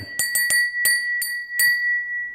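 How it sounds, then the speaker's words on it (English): A 24 karat gold inlaid lead crystal bell rings in about six clear, bright strikes at an uneven rhythm, each leaving a sustained pure tone hanging underneath, close and fairly loud with no talking. "this right here is 24 karat gold inlaid lead crystal bell. You hear that?"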